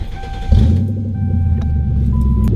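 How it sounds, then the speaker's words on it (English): A Ford Crown Victoria cranks over and its V8 settles into a steady, close idle rumble, with a few faint electronic chime tones from the dash layered on top. "all you got to do is just turn the car on"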